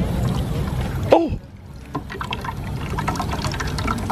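Water is poured into a bucket on a beach to make slime, a close, splashy gush with gurgling that starts and stops, then softer sloshing and trickles follow, with faint voices nearby.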